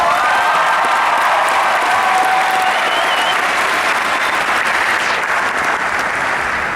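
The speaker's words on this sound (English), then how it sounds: "Can we give them another round of applause?" Sustained, dense applause from a large graduation audience, steady and loud throughout with a few faint whistles and cheers riding on top.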